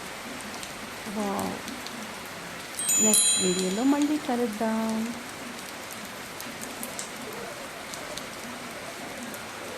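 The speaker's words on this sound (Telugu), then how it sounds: "చూడండి వర్షం అయితే ఫుల్ అయిపోయింది, జోరుగా వచ్చేస్తుంది" Heavy rain pours down in a constant dense wash of noise, while a person speaks briefly over it partway through.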